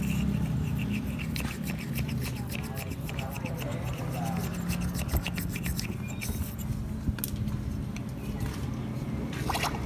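Small toothbrush scrubbing carbon off an engine valve, a continuous close, gritty brushing and scraping under a steady background hum, with someone talking throughout.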